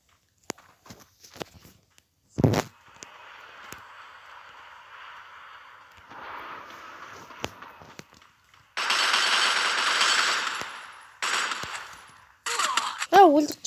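Video game gunfire in a multiplayer shooter, with sharp single shots and short rapid bursts, a few loud nearby cracks and sustained rattling volleys, mixed with footsteps and quieter stretches between.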